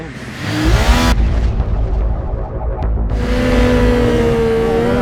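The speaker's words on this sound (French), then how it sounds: "Un moteur KTM." KTM motorcycle engine in a standing-start 1000-metre acceleration run, revving hard and loud close by, pitch climbing through gear changes with a brief drop mid-run.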